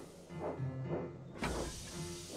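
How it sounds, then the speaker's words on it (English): Steam locomotive venting steam, rhythmic puffing hisses in several bursts with a sharper, brighter blast midway, fairly close and steady, and no voices. "Thomas's boiler was bubbling, and his steam was wheeshing."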